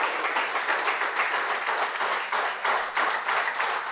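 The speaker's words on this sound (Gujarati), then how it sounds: "આપ સૌને ફરીથી એક તાળીઓ પાડવાની વિનંતી કરું છું" An audience at a public lecture hall gathering claps in sustained, dense applause, loud and continuous with no talk over it.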